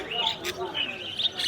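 Cage birds at the Kaminat bird market in Margilan chirp in quick, high tweets, a few calls scattered across the moment with busy market noise and voices around them.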